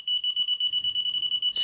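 A Txi-D metal detector emits a rapid run of steady high-pitched pulsed beeps, about a dozen evenly spaced pulses, close and loud, ending abruptly with a brief rustle.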